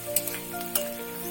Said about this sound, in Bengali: পেঁয়াজ রসুন লঙ্কা ভালো করে ভেজে নিতে হবে